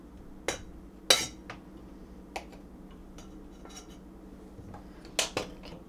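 A knife cuts about two and a half tablespoons of butter into smaller pieces for melting. Several sharp, sparse clicks and taps ring out against a board or dish over a quiet background.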